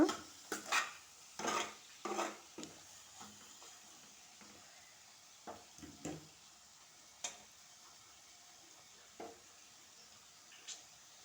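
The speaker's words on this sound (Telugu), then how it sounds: "ధనియాలు వెండు కొబ్బరి వేసుకున్న తర్వాత ఇలా కలుపుకోవాలన్నమాట" Spoon stirring coriander powder and dry coconut into a brinjal curry in a pot, with a few brisk scrapes near the start and sparser taps and scrapes later, over a faint low sizzle.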